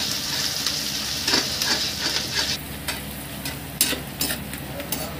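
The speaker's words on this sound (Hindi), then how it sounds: "और डाल दूंगी थोड़ी सारी मिर्ची, प्याज और ये अदरक" Chili, onion and ginger sizzle steadily in hot oil while being stirred for an egg curry, with scraping stir strokes and brief louder clatters over a continuous close frying hiss.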